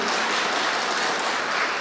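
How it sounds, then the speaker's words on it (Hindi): A hall audience at Madhuban claps for a visitor from Australia, a loud, dense wash of steady applause with no pauses. "तो देखो भाई, ताली तो बजाओ।"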